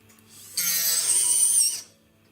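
A rotary burr cuts into a thick forged ring, a high, whining grind that starts abruptly, holds steady for about a second close up, then winds down.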